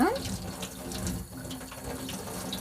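Oranges being washed under running kitchen tap water before making orange marmalade, a steady, fairly loud splashing stream with sink noise that runs through the whole stretch.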